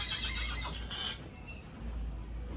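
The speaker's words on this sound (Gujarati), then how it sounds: "અહીંયા ઘોડા છે એ બતાવું તમને." A horse at a cattle shelter in Junagadh whinnies faintly over a low outdoor rumble, the neigh rising early in the stretch before fading into background noise.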